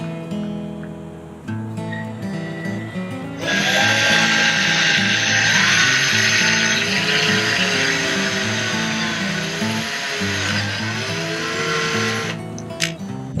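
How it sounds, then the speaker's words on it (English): A power drill whines steadily at high speed for several seconds, drilling a pilot hole in a truck bed, its pitch wavering slightly as it bores, with a motor hum throughout. "time to drill the first hole right in the center, and I'm going to be drilling a pilot hole"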